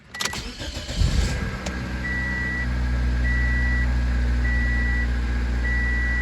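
A Toyota Corolla engine is started with the key: a short whirring crank catches and settles into a loud, steady idle close by, with a repeating electronic chime beeping over it.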